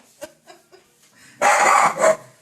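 A dog at home barks at someone passing in the street, a few short sharp yips followed by a louder burst of rapid, close barking.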